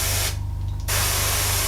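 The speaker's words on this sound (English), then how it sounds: "We're going to do a nice big spray of it again, and we're going to dry it back." An airbrush or spray nozzle hisses loudly and close over a Revell 1/48 Tornado model, a steady spray that cuts out briefly before resuming for the rest of the moment, with no talking.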